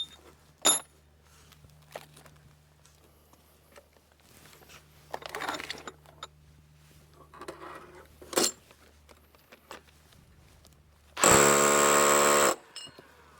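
Power tool driving Titan HD high-capacity screw anchors into a wooden mudsill, heard as one loud, steady whirring burst of about a second near the end, after scattered clicks and handling knocks.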